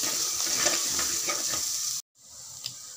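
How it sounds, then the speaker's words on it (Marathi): Spices and mutton masala with chili powder frying in a pan, a bright steady sizzle with soft stirring, cut off briefly before the sizzle resumes more quietly. "हे सर्व छान फ्राय करून घ्यायचं आहे।"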